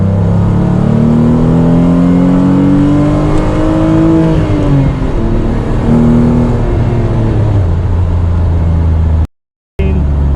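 Renault Clio engine revving hard while driving, a loud continuous drone with pitch climbing and falling through the revs, cutting to brief silence near the end.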